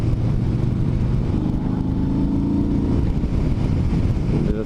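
A Yamaha Star Bolt motorcycle engine runs steadily while riding, a smooth, continuous low drone with even tone and wind noise throughout, loud and close with no talking.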